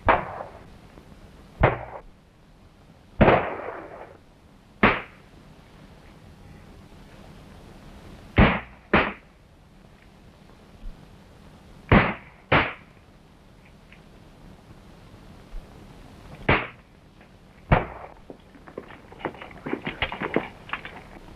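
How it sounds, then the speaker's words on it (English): Gunshots in a 1932 battle scene fire as sharp, separate cracks, about a dozen spread irregularly over the span, some in quick pairs, over a low steady hum, with a flurry of fainter pops near the end. "Shots came from over there, sir."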